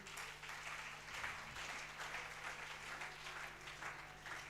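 A church congregation breaks into sustained, dense applause, a steady wash of many hands clapping together that holds at an even level throughout.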